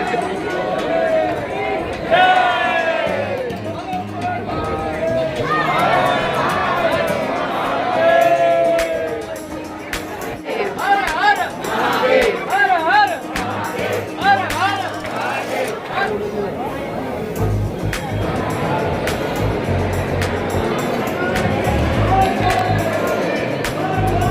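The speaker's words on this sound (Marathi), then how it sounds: "येथे सुद्धा भरपूर अशी गर्दी होती कारण सुट्टीचा दिवस" A dense holiday crowd at the Nageshwar Jyotirlinga temple fills the air with steady, overlapping chatter and a mix of voices near and far, the babble rising and falling without pause.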